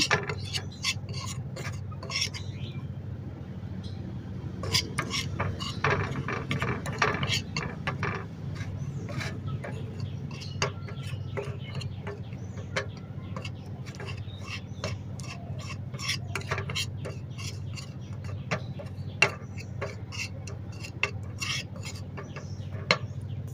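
Homemade face pack paste being stirred in a bowl, giving a steady scraping, rasping rub with repeated short strokes throughout, moderately close, over a low background hum.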